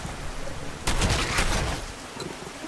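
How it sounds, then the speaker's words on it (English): Gunfire in Fallout 4 breaks out as a sudden loud burst of rapid crackling shots lasting about a second, then trails off into a quieter ambient hiss. "Sorry about that gunshot there."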